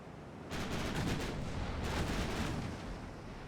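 Naval gunfire from warships in the Ultimate Admiral Dreadnoughts video game, a loud sustained rumble of big-gun salvos with overlapping booms that swell and roll on without pause.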